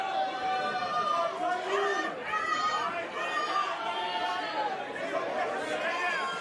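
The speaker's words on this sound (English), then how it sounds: "He cannot let this crowd distract him." An intergender wrestling crowd at a Sabotage event chatters and jeers in a loud, continuous din, with many voices overlapping close around the ring.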